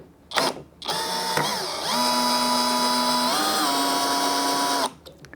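A Saker 20V brushless cordless drill whirs briefly, then runs in a long steady whine with shifts in pitch as a screw backs out, close and loud.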